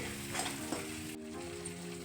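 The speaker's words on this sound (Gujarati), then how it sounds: "હવે બધું મિક્સ કરી લઈએ આપણે" Kitchen King and garam masala spice paste for a sponge gourd and patra curry being stirred in oil in a frying pan, a steady close sizzle with soft scraping, no voices.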